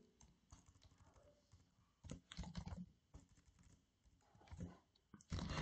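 Typing on a computer keyboard while writing Python code, quiet, close key clicks coming in irregular clusters and short bursts with pauses in between.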